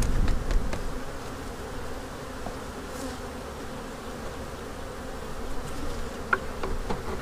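A small honeybee colony buzzes steadily while being moved into an observation hive, a continuous moderate hum of many bees with occasional closer wingbeats passing by.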